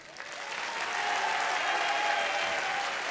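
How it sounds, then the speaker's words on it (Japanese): An audience at a Guilty Gear XX tournament final bursts into applause, building quickly into a dense, sustained wash of clapping from a large crowd in a hall. "拍手よろしくお願いします。"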